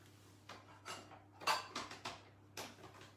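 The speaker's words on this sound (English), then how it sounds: "you're going to put a big heaped tablespoon of flaxseed meal into your bowl" A spoon clinks against a bowl while a heaped tablespoon of flaxseed meal goes in for chocolate crinkle cookies, giving several soft taps and scrapes at close range over a faint low hum.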